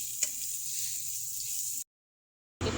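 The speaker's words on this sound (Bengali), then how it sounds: "এখন যে পটল ভাজছি" Pointed gourd (potol) slices sizzle in a frying pan with an even, close hiss that cuts out to silence for a moment before resuming.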